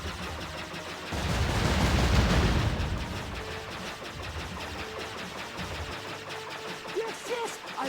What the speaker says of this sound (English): I'm assuming those are bombs